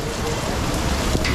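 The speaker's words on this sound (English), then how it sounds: "A lot of rain today, eh?" Steady rain falls during floods in Karachi, Pakistan, a dense, continuous hiss of drops striking surfaces close by, with no voices over it.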